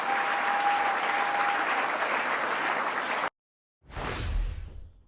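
An audience at a political address applauds steadily for about three seconds, a dense continuous patter of many hands, then stops abruptly; after a short silence a brief swelling whoosh follows.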